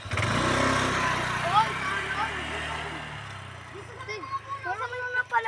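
A motorcycle engine runs steadily and close, with a droning hum that fades a little toward the end. People talk over it throughout.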